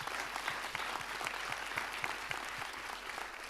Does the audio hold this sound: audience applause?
yes